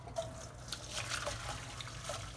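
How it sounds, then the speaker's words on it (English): Water pours and trickles as cooked potatoes are drained, a close, steady splashing stream lasting a couple of seconds with a few drips, no voices. "Now I'm going to drain the potatoes."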